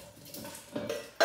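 Lamb ribs being transferred into a cooking pot for pepper soup, brief clatter of utensils against the pot ending in a sharp metallic clink.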